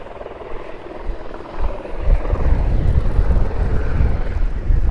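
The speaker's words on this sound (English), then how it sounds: "You can hear a helicopter taking off." A helicopter taking off, its rotor thump building from a distant whine into a loud, steady chopping roar, with wind buffeting the microphone.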